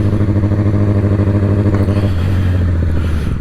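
A sport bike motorcycle engine drones steadily and loudly up close, with a strong low rhythmic pulsing throughout as the bike is ridden, and no voices.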